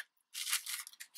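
Scissors snip through window tag material in a quick run of crisp cuts, close and fairly loud, with no talking.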